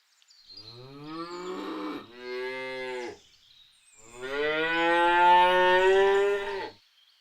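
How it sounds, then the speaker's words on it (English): A cow moos twice, a shorter low call followed by a longer, louder drawn-out moo, heard clearly and alone. "Cow."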